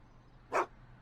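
Einie the dog from Back to the Future: The Game gives a single short, clear bark, close and isolated against a quiet background.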